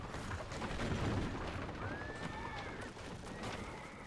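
A horse in the Assassin's Creed 2 video game whinnies once, a faint rising call midway, amid game noise and rumbling.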